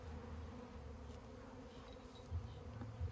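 A low, steady buzzing hum of a swarm of honey bees, continuous and fairly faint, with a soft drone filling the background throughout.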